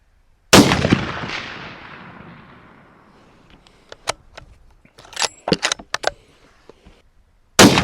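A single loud, close CVA Cascade 7mm Rem Mag rifle shot cracks out and its boom decays for a few seconds, followed by clinking, rustling handling sounds and another sharp report at the end.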